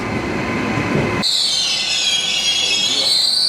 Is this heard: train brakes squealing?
yes